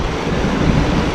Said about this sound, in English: we're walking across a bridge right here, and it's a mountain stream coming down